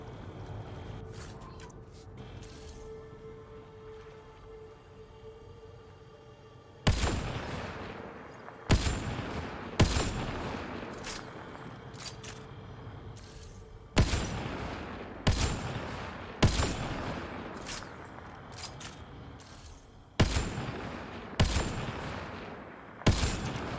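Gunfire in Mass Effect Andromeda: after a quiet stretch, a series of sharp, loud shots and bursts arrives in irregular clusters, close and punchy, with combat ambience between them.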